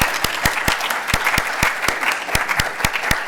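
Steady applause from an audience at a scientific society business meeting in Hawaii, a dense wash of many hands with a few louder individual claps standing out near the front, sustained evenly for the whole stretch with no talking.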